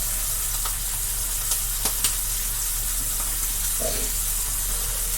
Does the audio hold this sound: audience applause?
no